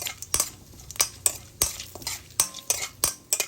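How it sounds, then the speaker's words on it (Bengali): A spoon stirs cumin and fennel seeds frying in oil in a pan for a raw banana curry, giving sharp metallic scrapes and clinks at a steady pace over a soft, continuous sizzle. "জিরা আর মৌরিগুলোকে একটু ভেজে নিয়ে"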